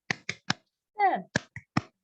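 A school class does a rhythmic spirit clap: three sharp claps, a short voiced shout, then three more claps, close and crisp.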